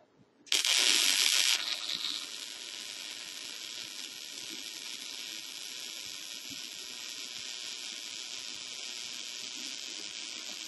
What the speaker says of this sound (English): he's doing a vertical weld down